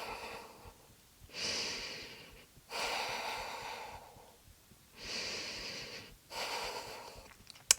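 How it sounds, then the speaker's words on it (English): Deep, slow breathing during a vinyasa yoga flow, with four long audible breaths, each lasting about a second or more and separated by quiet gaps, close and airy with a slight nasal rasp and no talking. "Take a few more deep breaths in and out here, really firing up the core."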